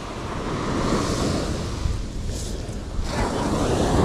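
Ocean waves break and wash on a beach at Carlsbad State Beach during surf fishing, a steady loud roar of surf with wind buffeting the microphone and no speech.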